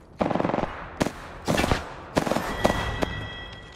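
Gunfire in Apex Legends: a rapid automatic burst, then several shorter volleys and single sharp shots in quick succession, loud and close, with no speech.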